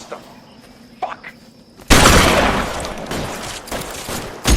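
Burst of heavy gunfire from a firefight in L.A. Noire, a loud sustained volley of rapid shots after a quieter opening with a few faint pops, continuing with repeated cracks to the end.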